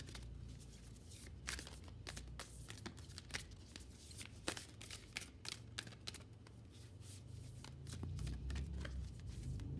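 Tarot cards being shuffled and pulled during a pick-a-card reading: a steady run of soft papery flicks and slides, close and fairly quiet, with brief sharper snaps scattered throughout and a low room hum underneath.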